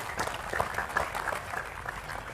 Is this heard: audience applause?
yes